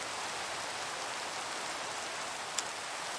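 Rain in the Minecraft video game falls as a steady, even hiss with a single faint tick near the end, moderately quiet and unbroken, with no talk.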